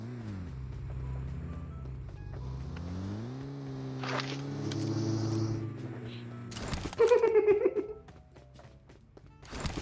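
In PUBG Mobile, a car engine passes close by, its tone swelling and bending as it goes, then a sharp burst of louder game noise near the end.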